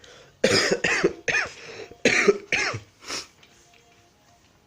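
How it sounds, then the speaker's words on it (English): A run of about six harsh, close coughs in quick succession, each a loud rasping burst, trailing off into quiet. "this cough is really bad"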